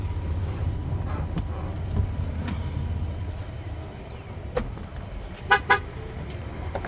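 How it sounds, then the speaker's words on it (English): Road noise and a low engine rumble, then two short, sharp horn toots close together near the end from a 2019 Ford Expedition warning that the car is on with the key outside. "So it will honk at you, letting you know that the car's on and the key's not inside the car."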